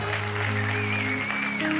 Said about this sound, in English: give the Lord a hand